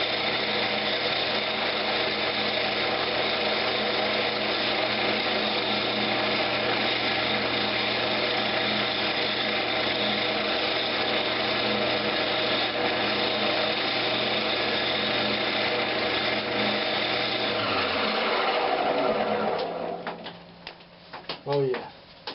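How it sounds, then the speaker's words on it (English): A power buffer whirs steadily at a constant pitch for about eighteen seconds, then winds down and stops, followed by a few faint clicks and handling noises. "I'm fixing to try to buff this thing a little bit"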